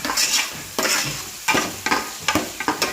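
Curry sizzles in a pan while a spoon stirs it, with soft frying hiss broken by repeated scraping strokes that come in irregular bursts, close and clear with no talking.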